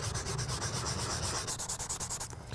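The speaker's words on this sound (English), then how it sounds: "I didn't want to sand it too aggressively, because it's possible to sand right through the finish" Light, rapid back-and-forth sanding strokes rasp across a foam Boba Fett helmet, close and steady in an even rhythm with no voices.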